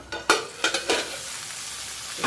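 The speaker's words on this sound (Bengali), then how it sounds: "ক্যাপসিকামটা দিয়ে একটু নাড়াচাড়া করে আবারও ঢেকে দিলাম" Capsicum sizzles in a hot pan, with a few short bursts of stirring scrapes near the mic.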